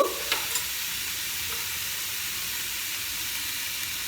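Spices are stirred into fried onions in a hot pan for egg korma, giving a low, steady sizzle with a few scraping stir strokes near the start and no talking.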